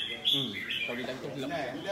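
Chirps and whistles from a competition songbird at a bird-singing contest, heard under someone talking over a loudspeaker.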